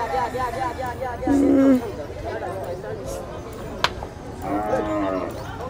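Water buffalo lowing at a livestock market, a couple of low drawn-out moos under steady crowd chatter and nearby talk, with one sharp knock midway.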